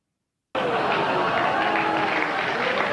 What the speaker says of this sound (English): You hear the applause. You hear some groans.